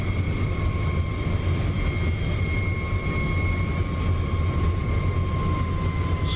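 F-35B jet engine in the DCS flight simulator during a vertical landing attempt, a steady loud whine with sustained high tones over a constant low rumble, with no break in the sound.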